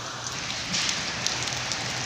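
Steady rain pattering on a surface nearby, a soft continuous hiss with occasional louder drops.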